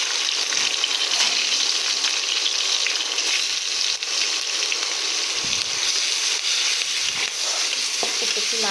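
Chopped onion frying in oil tempered with whole cumin seeds for a Bengali fish curry, a continuous close sizzling hiss with occasional stirring scrapes throughout.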